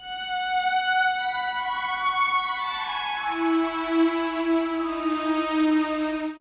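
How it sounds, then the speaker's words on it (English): A soft synth top melody played over sustained chords with the same Omnisphere sound, clean tones gliding between a few long held notes, steady and moderately loud, heard alone. "Now I put a top melody on those chords with the same sound on it."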